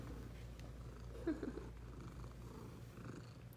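Cat purring under a table, a soft, steady low rumble close to the microphone, continuous and faint, with a brief rustle partway through.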